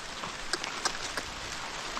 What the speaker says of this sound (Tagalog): ang ulan walang kaumay-umay.